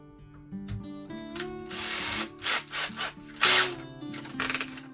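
A power drill fitted with a 4 mm bit, used while fitting an aluminium trim strip during finishing work, whirs in several short bursts of varying length, close and clear, with brief pauses between runs.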